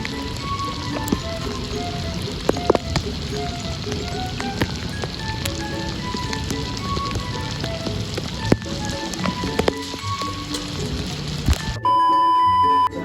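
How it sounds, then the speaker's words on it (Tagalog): Rain keeps falling outside a condominium with pool access, a steady close patter of drops on surfaces with scattered louder taps and faint tonal sounds, ending in a sudden harsh buzz. "umuulan pa rin"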